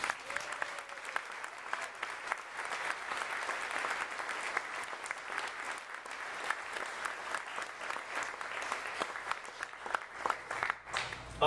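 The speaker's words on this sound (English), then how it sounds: "let's give a round of applause to all our children" Sustained applause from a large audience at an awards dinner, a steady dense patter of many hands clapping, moderately loud and continuous with no voices over it.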